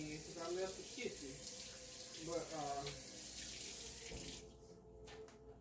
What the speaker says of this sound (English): I'm going to wash my hands again because I left the kitchen.